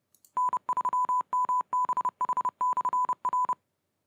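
An OpenRepeater radio repeater sends its identification as a run of crisp 1000 Hz tone beeps, short and long pulses in a quick Morse-like rhythm, clean and alone against silence.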